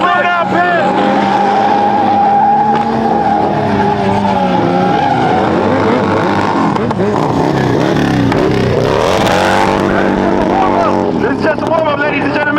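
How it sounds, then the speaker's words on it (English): Car doing a burnout in a burnout pit at a large car event, engine revving hard with screeching tire squeal rising and falling continuously, loud and close, with a crowd and an announcer's voice over it. "Inside the burnout pit, check it out!"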